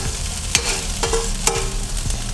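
Cooked white raw rice being stirred into a hot pepper mixture in a pan, with a soft continuous sizzle broken by several sharp scraping strokes of a spoon against the pan at an even pace.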